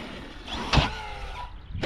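A Corally Sketer RC car pulls away slowly over grass, its electric motor giving a rising whine with one sharper burst in the middle and another near the end.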